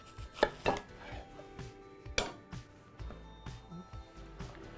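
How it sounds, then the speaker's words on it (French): A knife slices through unpeeled, washed apples on a cutting board, giving a few sharp, close chopping knocks: two quick ones early, another a second and a half later, then softer taps. "Pour les pommes, on ne va pas les éplucher, on va juste bien les nettoyer et on va procéder à leur découpe exactement comme ceci"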